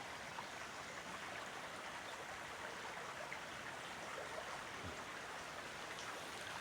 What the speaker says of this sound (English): You have to think about this small stream.